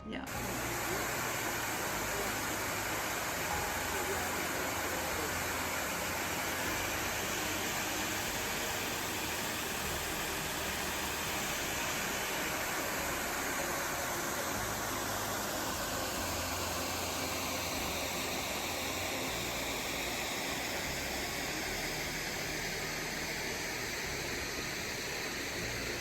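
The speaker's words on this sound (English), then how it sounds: "so it made a nice waterfall for us" A rain-swollen waterfall at Devil's Den State Park, Arkansas, gives off a steady, dense rushing roar that holds at an even level from start to finish with no breaks.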